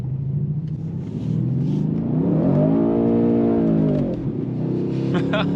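A 2018 Mercedes-AMG C63S engine rumbles at idle, then revs up into a loud rising roar that holds for a couple of seconds before falling back to a low rumble.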